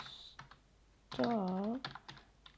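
Several close, crisp keyboard taps as a pip install command is typed into a terminal, briefly broken by a short wordless vocal sound, then a few more scattered keystrokes.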